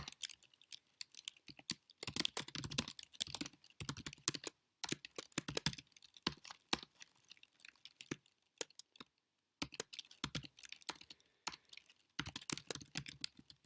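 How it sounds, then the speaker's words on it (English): Fingers typing on a computer keyboard, rapid irregular bursts of clicking keys separated by short pauses, close and fairly quiet, with no one talking. "you'll see me type in here"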